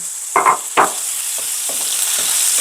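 Eggplant goes into a hot frying pan already holding chili. A few sharp clatters come first, then a steady, close sizzle that hisses on alone.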